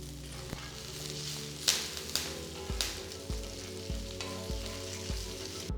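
Dried red chilies and curry leaves frying in hot oil for a Telugu garlic kaaram potato fry, with a steady close sizzle and crackle plus several sharp pops and stirring knocks at irregular intervals.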